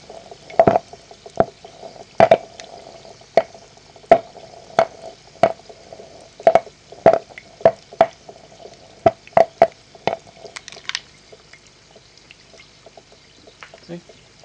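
Hydrogen gas bubbling from a gallium and aluminium reaction in water gives off sharp, irregular pops and crackles, close and clear, that thin out toward the end with no talk over them.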